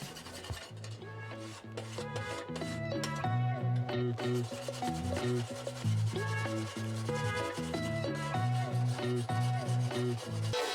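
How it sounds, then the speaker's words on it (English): A wire brush buffing heat discoloration off a copper leaf on a handmade metal rose, heard up close as continuous rhythmic rasping strokes with ringing metallic tones that shift in pitch, no voices. "just took a wire brush, buffed it off"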